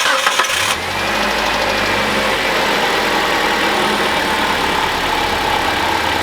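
A car engine starts and settles into a steady, loud idle just after an oil change, with no talking over the running motor.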